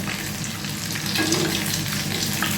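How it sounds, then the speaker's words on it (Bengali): Egg-coated chicken pieces for chili chicken fry in hot oil, producing a loud, dense, unbroken sizzle heard up close with no talking. "এগুলো কিন্তু খুব বেশি ভাজার দরকার নেই চিকেন খুব বেশি ভাজলে কিন্তু শক্ত হয়ে যায়"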